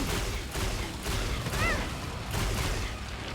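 Gunfire in Killing Floor 2 comes as rapid, repeated shots in several bursts, with steady mid-level loudness and some mechanical clatter mixed in.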